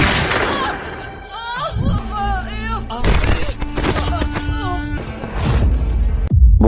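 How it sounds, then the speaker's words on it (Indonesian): Pistol fire in a mafia action film scene at a lively party: a couple of sharp, loud bangs, one near the middle and one near the end, over a busy mix of voices and music. "Sardar mengacungkan pistol dan tidak sengaja menembak seorang wanita."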